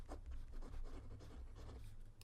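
A Lamy 2000 fountain pen with a medium nib draws leaves on paper, giving a soft, close scratching rasp of nib on paper in short strokes that stays quiet throughout.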